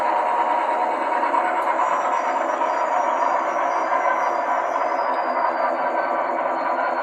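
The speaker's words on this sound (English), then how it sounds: "there is the V16 EMD 34 class GM" Model locomotive sound file of a Class 34 GM with a two-stroke V16 EMD 645 diesel, a steady smooth engine drone holding even loudness throughout with no misfire, no voices.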